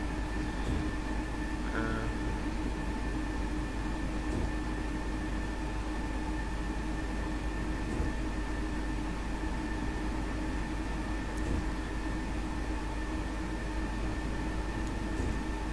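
Steady rumbling S-Bahn train noise in Train Simulator, with a constant mechanical drone and hum, continuous throughout with no talking.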